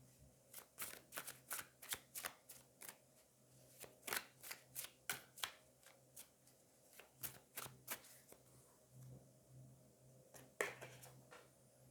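Queen Mab Oracle cards being shuffled in a run of soft, quick riffling snaps, one after another, close but faint, with a low steady hum underneath.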